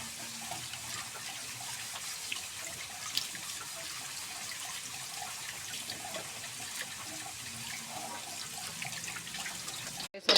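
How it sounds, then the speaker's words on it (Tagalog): A pot lid being washed under a running kitchen tap while cooking chicken adobo, steady hiss of flowing water with small splashes and clinks, faint and continuous. "hugasan ko muna itong ating takip na gagamitin"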